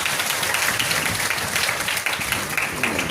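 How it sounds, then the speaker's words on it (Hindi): Audience clapping at a Shrimad Bhagwat Katha religious gathering, a dense, steady wash of many hands at close range lasting throughout with no pauses. "एक बार ताली बजाओ तुम लोग"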